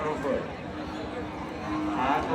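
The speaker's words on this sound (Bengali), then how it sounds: "লাল লাল টকটকে কালার ভালো জাতমান কোয়ালিটির এই যে গরুগুলি দেখতে পারতেছেন" Red cattle at a livestock market in a border area give low moos amid a general murmur, with a person talking close by.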